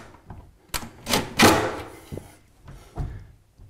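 Kitchen cabinet doors swinging shut, giving a series of sharp wooden knocks and clacks, loudest near the middle, then softer taps with a final thud; close and clear with no talking.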